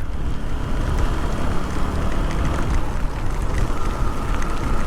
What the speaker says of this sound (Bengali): ঝড় বৃষ্টি